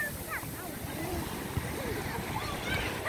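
Ocean waves at Padang beach on an evening outing, a steady washing surf roar mixed with wind buffeting the microphone, while people talk faintly nearby.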